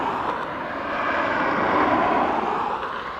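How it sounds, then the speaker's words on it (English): An ATR 72 turboprop airliner arriving from Guernsey at Dublin Airport produces a steady, fairly loud broadband drone that swells slightly midway, with no talk over it. "It's a little ATR coming in from Guernsey."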